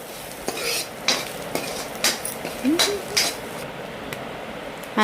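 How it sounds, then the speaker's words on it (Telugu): Maggi noodles being stirred in a pan, a run of sharp spatula clinks and scrapes against the metal at an irregular pace, close and fairly loud, with a brief louder clatter at the end. "కొద్దిగా వేగిన తర్వాత మ్యాగీ ప్యాకెట్లు అందులో వేసుకోవాలి. కలుపుకోవాలి. అంతా బాగా కలిసేలాగా కలుపుకోవాలి."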